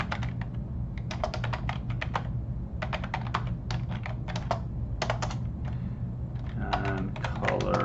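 Bursts of rapid keystrokes on a computer keyboard, close up, separated by brief pauses, ending with a voice starting to speak.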